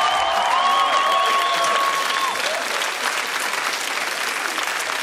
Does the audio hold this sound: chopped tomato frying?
no